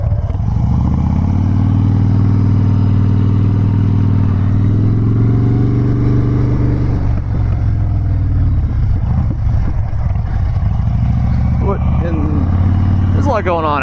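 A Harley-Davidson Dyna Wide Glide motorcycle idles and rolls along with a deep, throbbing engine rumble that shifts pitch as it revs and slows. A rider talks over it throughout.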